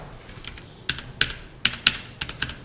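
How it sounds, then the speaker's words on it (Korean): Keys on a computer keyboard are pressed, including the space bar, giving several crisp, close clicks spaced unevenly over a couple of seconds, with no voices. "이 스페이스바를 2번 누르면 들여쓰기 한 번 하겠다"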